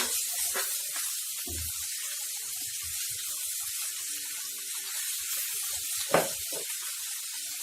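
Two finely chopped medium onions brown in a pan for vegetable bread rolls, giving a steady, even sizzling hiss throughout with a few faint clinks and a single sharp tap near the end.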